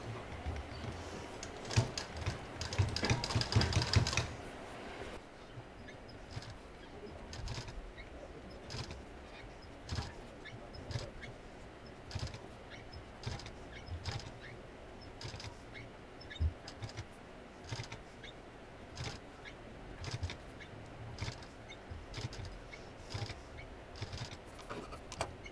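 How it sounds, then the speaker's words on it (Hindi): A sewing machine stitching pleats into fabric, starting with a brief dense burst of running stitches and then continuing as a series of short, spaced bursts of mechanical clatter, close and fairly quiet. "यहाँ पर इसमें अब हम इस तरह से सिलते हुए यहाँ पर प्लीट्स डालना शुरू करेंगे"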